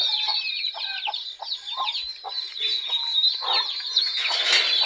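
Plymouth Rock chickens and hens on a farm make a steady chorus of overlapping clucks and chirping calls, with some brooding birds among them; the sound is continuous and fairly close, with no talking.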